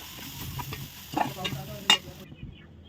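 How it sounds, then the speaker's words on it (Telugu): Turmeric, chili powder and garam masala stirred and fried together in a pan for Kerala-style fish polichathu, a soft close sizzle with a few scraping stirs and a sharper clink near the end, then quiet. "ఇప్పుడు అన్నిటినీ కలిపి ఫ్రై చేసుకోవాలి."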